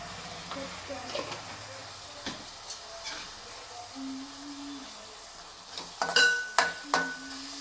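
Fish curry masala frying in a pan with chili powder and salt, a soft steady sizzle under intermittent stirring scrapes that grow louder and clattery toward the end.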